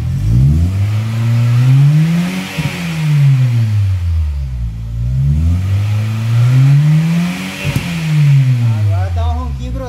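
A Honda Fit 1.4 fitted with a sport exhaust revs up and down in repeated rising and falling sweeps, loud and close, with a brief pause between throttle blips.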